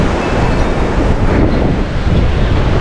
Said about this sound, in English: It's still pretty windy up there.